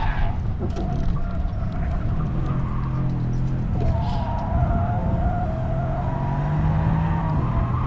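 A Mercedes-Benz C63S AMG on a track shifting from third to fourth gear, its engine droning under load, dipping briefly at the shift near the middle and then rising again, heard from inside the car.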